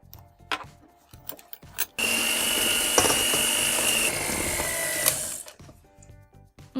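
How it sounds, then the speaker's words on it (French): Stand mixer with a whisk on low speed mixing flour and yeast into cake batter, a bright whirring mechanical run of about two seconds between clatters and clicks, ending abruptly. "on va mélanger délicatement, enfin à petite vitesse avec le fouet"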